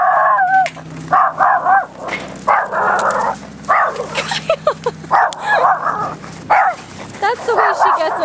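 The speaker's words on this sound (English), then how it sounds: "I'm gonna have her see this people so she'll stop barking." A female dog barks and whimpers excitedly on seeing other dogs, loud and close, in repeated bursts mixed with yips while people talk over and between the barks.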